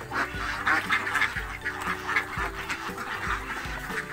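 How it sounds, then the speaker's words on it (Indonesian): Laying ducks quack at feeding time, a busy flock calling continuously at close range with overlapping honking quacks. "Saya lanjut untuk pemberian makan bebek kita yang di sebelah yang sudah aktif bertelur hampir 7 bulan guys"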